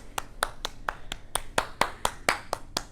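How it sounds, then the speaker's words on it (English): Hands clapping in a big circular motion during a vacation Bible school dance lesson: about a dozen sharp, close claps in a steady, even rhythm with no talking. "You're going to clap your hands in a big circle like this."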